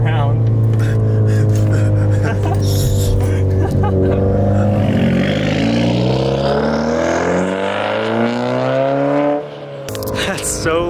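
Loud Subaru WRX heard from outside as it drives by, its engine note sweeping up and down in pitch over about ten seconds before dropping away.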